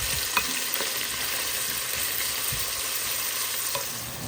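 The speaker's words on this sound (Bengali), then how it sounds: "মশলাটা ভালো করে কষাই নিচ্ছি।" Masala frying in a pan on medium-low heat: an even, close sizzling hiss throughout, punctuated by a few light taps and scrapes of stirring, with no one speaking.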